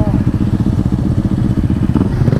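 A motorcycle engine on a street runs with a loud, clattering rumble that pulses and surges, heard close up.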